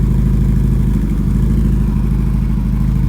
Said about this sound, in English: So the car's on cold start now. Little bit of exhaust note.